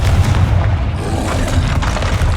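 A Confringo blast spell from the Hogwarts Legacy video game lands as a loud, dense booming explosion with a deep rumbling low end. It is sustained through the whole stretch amid chaotic battle noise, with no speech.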